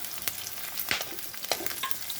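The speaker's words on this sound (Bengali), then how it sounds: "পেঁয়াজটাকে ভালো করে ব্রাউন করে ভেজে নেব" Chopped onion frying in oil in a pan, a steady close sizzle broken by a few sharp spatters and stirring scrapes, with no voices.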